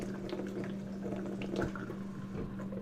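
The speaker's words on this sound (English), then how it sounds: "I'm going to rinse my hand off here" Tap water runs steadily into a sink during a hand rinse, a faint, even stream with small splashes and no talking.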